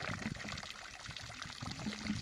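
Water runs freely, with no motor, from a borewell drilled into a mountainside, giving a steady, soft rushing trickle with no talking.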